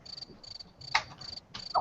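Crickets chirp in repeated short bursts, a bright pulsing trill that starts and stops at a steady rhythm, with a couple of brief louder knocks mixed in.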